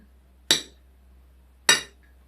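A knife clinks twice against a plate while slicing boiled eggs into strips, two sharp isolated ticks about a second apart in an otherwise quiet room.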